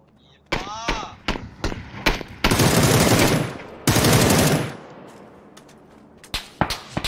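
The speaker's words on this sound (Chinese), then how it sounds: "这枪声离远了，听着好怪呀" Gunfire in an online shooting video game: sharp single shots, then two sustained bursts of rapid automatic fire heard at a distance, followed by scattered shots as the roar tails off.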